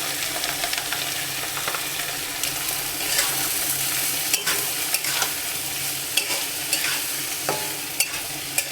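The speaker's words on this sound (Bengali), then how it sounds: "এখানে আমি পেঁয়াজ আর কাঁচা ঝাল দিয়েছি। তরমুজের খোসা কাটাগুলো দিয়ে দিলাম আমি। একটু লবণ আর এই যে হলুদের গুঁড়া।" Watermelon rind frying in a pan with onion, green chili, salt and turmeric gives a steady close sizzle throughout, with scattered clicks of a spoon stirring, and no talking.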